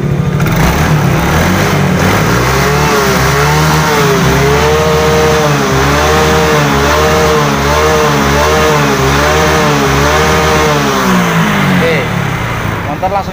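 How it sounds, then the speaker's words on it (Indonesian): A Yamaha Mio J motor scooter engine is kick-started, catches and runs loudly, its pitch rising and falling in repeated revs before settling near the end. "Kita engkol motor langsung hidup"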